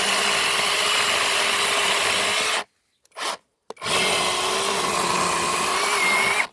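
A cordless mini chainsaw with a freshly sharpened chain cuts wood with a loud, continuous buzzing whine that stops briefly midway, then starts up again at full speed.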